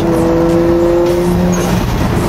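A car engine holds a loud, steady revving drone close by, with a faint squeal over it, on a wet rainy day.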